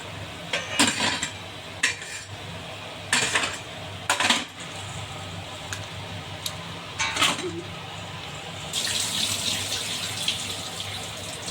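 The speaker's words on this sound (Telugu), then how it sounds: "ఈ అరటి పువ్వుని దీన్ని బాగా కడిగి ఇప్పుడు పిండుకోవాలి ఫ్రెండ్స్ బాగా వాటర్ లేకుండా" Banana flower is washed under running tap water, a close stream of water mixed with sharp clinks and clatters of utensils, the flow swelling louder toward the end.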